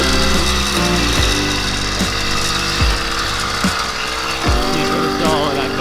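A motorized bicycle's small engine runs loud and close, with a steady buzzing drone and repeated rising and falling revs as the rider works the clutch and throttle.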